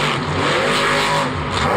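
A monster truck engine fitted with MagnaFlow header collectors roars loud and close at a Monster Jam show in Orlando, a dense sustained blare with surging revs throughout.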